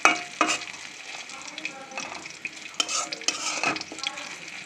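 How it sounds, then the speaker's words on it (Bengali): Cumin seeds crackle and sizzle in hot oil in a wok while a spatula scrapes and stirs in short, irregular strokes, close and moderately loud, with no voices. "কড়াইয়ের মধ্যে তেল দিয়ে এর মধ্যে একটু জিরা ফোড়ন দিব, দিয়ে একটু লাড়চাড় করব।"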